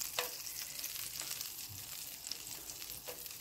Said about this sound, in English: So as this melts, now we're gonna throw in our rosemary.